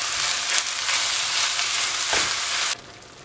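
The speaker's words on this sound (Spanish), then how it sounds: "la vamos a dejar aquí que se sofría junto con la cebolla y el ajo" Ground meat frying in a pan with onion and garlic for Mexican chiles en nogada, a loud steady close sizzle with a couple of soft stirring scrapes, cutting down sharply near the end, no talk.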